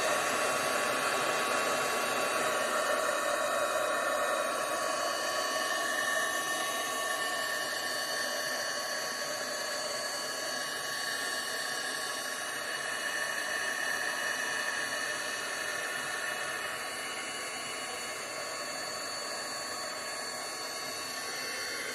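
A hair dryer runs steadily while drying blue paint on an artwork in a studio, its continuous whooshing hiss holding at close range throughout with no talking.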